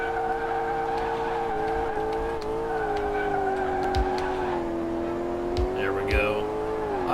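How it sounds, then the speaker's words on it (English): A car engine in Car Mechanic Simulator 2018 holds at redline, a steady high whine with slight pitch wobble running throughout, with brief skid-like chirps and clicks layered on top. "Oh, it's redlining."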